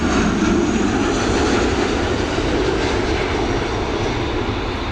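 A Ryanair airliner on landing approach at Dublin Airport gives a loud, continuous jet engine roar that stays steady and close throughout, with no voices heard.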